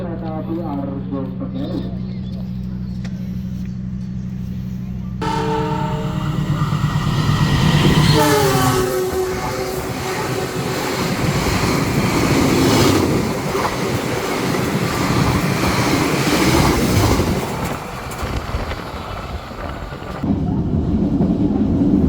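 A KA Bengawan passenger train rumbles and hisses as it pulls away from a station, with a steady low drone giving way to louder, rising rail and engine noise and clanking that carry on throughout.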